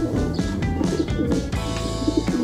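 A young pigeon squab, held in the hand for vaccination, gives loud, close, repeated low cooing notes in short rhythmic pulses. No speech is heard.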